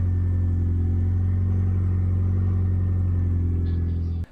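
A Toyota MR2 engine idles steadily with a low, even hum and strong rumble, continuous and close, cutting off abruptly at the end.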